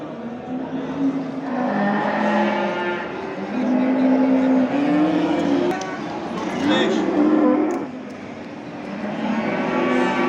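Cattle and calves at a busy livestock market, with several low moos rising over a steady crowd murmur and people talking nearby.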